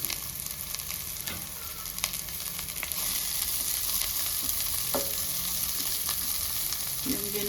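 Curry leaves and chopped onion fry in hot oil for a banana stem side dish, giving a steady close sizzle and crackle with occasional clicks of stirring.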